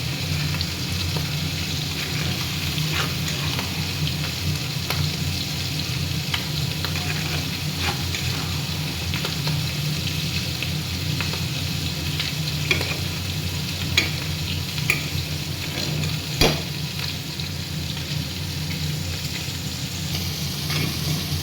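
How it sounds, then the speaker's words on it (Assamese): Spices sizzling in oil for an eggplant dish while being stirred, a continuous frying hiss broken by occasional scraping clicks of the spoon against the pan. "এনেকৈ ভাজি ল'ব আপোনালোকে ৰঙচুৱা কৰি"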